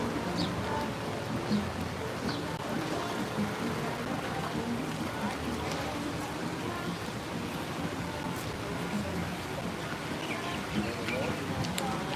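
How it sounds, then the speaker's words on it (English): Rain falls steadily outdoors in a small historic town, a constant patter filling the whole stretch with faint birds and people talking over it. "It's raining."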